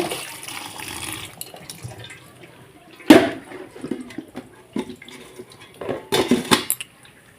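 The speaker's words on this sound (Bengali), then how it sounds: "সেদ্ধ করে নিয়ে ঠান্ডা জলে একটু ধুয়ে নিলাম" Boiled pasta being rinsed with cold water in a pan, with splashing water and sharp clattering knocks of the pan and utensils, irregular bursts close by and no talking.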